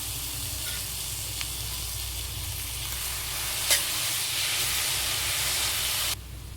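Cooked amaranth leaves being stirred into a curry in a hot pan, giving a steady close sizzle and hiss with occasional scrape of the spoon, no talking.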